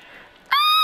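A sheep bleats in Minecraft played in VR: one short, bright, nasal note that cuts in loudly after a quiet hum.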